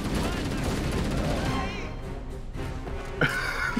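Weapon fire in Halo: Combat Evolved Anniversary, a dense stretch of rapid shots that thins out, then a sharp burst near the end, with people talking over it.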